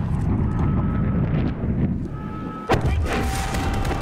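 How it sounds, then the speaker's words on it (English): An explosion in Call of Duty: Modern Warfare, set over constant low wind-like rumble, lands as one sharp boom late on and leaves a rolling, crackling tail. "that thing has a much bigger fucking explosion"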